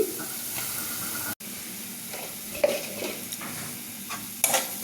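Broad beans (chikkudukaya) fry in a pan with a steady close sizzle, broken by a few sharper stirring scrapes and one brief cut-out in the sound.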